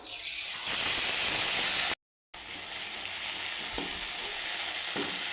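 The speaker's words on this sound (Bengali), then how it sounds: "এই যে মাছগুলো কিন্তু আমি নামিয়েছি এখানে দিয়ে দেবো পাঁচ ফোড়ন দিয়ে দেবো বাটা মশলা" Fish sizzles in hot oil with five-spice seeds and ground spice paste, giving a dense, close hissing crackle that cuts out briefly before resuming, with occasional stirring knocks.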